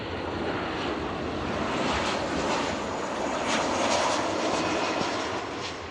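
A jet airliner in a special UNCF livery arrives at Seattle airport, its engine roar steady and loud throughout with a broad rushing wash, no voices heard.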